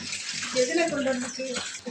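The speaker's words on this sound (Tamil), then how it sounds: "இப்போ இந்த மீனையும் கழுவிடலாம்" Water sloshes and splashes as fish is washed by hand in turmeric water in a kitchen bowl, a short close rinsing sound under a speaking voice.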